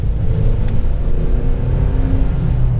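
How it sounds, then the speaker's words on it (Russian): A 2013 Honda Accord 9 engine pulls under light throttle at around 50 km/h in sport mode, a loud continuous rumble with a low whirring drone rising gently as the car gathers speed. "чуть газку даем"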